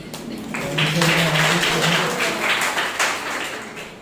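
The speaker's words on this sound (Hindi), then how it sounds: "उनके लिए जोरदार तालियां हो जाएं" A Sunday church service congregation applauds in a dense, steady wash of hand claps, with a voice speaking over it throughout.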